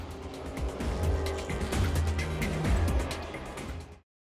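Late model race cars in a TBRA race at CNB Bank Raceway Park roar past with engines rising and falling, loud and steady, before the sound cuts off abruptly.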